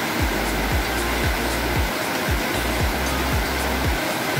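A waterfall at Pedro Lessa, Minas Gerais, makes a dense, steady rush of water. Strong rhythmic low thumps of wind or handling noise run through it with no voices.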